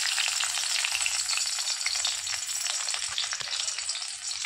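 Garlic frying in hot oil for a Hindi home-style lauki (bottle gourd) sabzi, giving a steady, dense close-up sizzle with faint crackles and a few soft stirring clicks, no voices.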